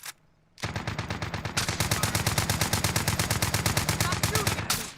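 Rapid automatic gunfire from a video game mission blasts almost nonstop after a half-second of near silence, loud and close with a steady rattling rhythm that briefly breaks before resuming at the end.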